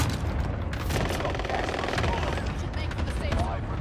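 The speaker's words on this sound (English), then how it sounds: "Rocket strike is active." Rocket strike explosions and rapid gunfire in a video game with a safe zone and gas, crackling densely and steadily throughout under a voice talking over the noise.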